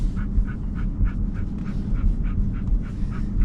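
A dog pants rhythmically inside a moving car, quick regular breaths close by over a steady low road rumble.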